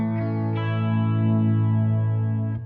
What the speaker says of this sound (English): let's see the coil tap with some clean tones.